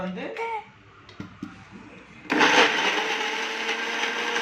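A mixer grinder coarsely grinds fennel, cumin, onion, ginger and garlic for mutton gravy. A few soft voices and clicks come first, then the motor cuts in abruptly with a loud, steady whir.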